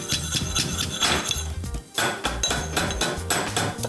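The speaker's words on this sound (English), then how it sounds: "pound some garlic, a few cloves going in. This is an old-fashioned mortar," Garlic cloves pounded in an old-fashioned mortar while onions fry, giving loud, repeated hard knocks with ringing, clinking metallic tones in an uneven rhythm that pauses briefly before resuming.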